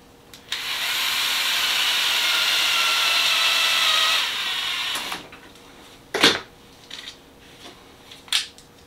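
A power drill bores a screw hole in one steady, loud whirring run of about four seconds that drops to a lower hum and stops. Scattered clicks and handling knocks follow.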